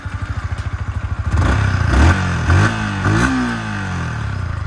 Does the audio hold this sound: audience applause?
no